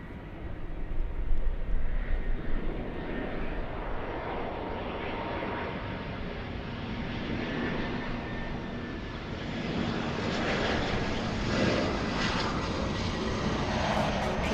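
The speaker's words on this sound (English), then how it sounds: "Let's go over to the JetBlue. Heading to the runway." A JetBlue airliner taxis toward the runway at an airport, its engines giving a steady, broad roar that stays fairly loud and even throughout, with faint voices barely audible.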